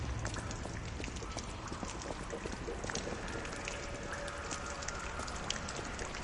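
Rain falls at a train station at night in the video game Lies of P, a steady dense patter of drops on hard surfaces with no voices.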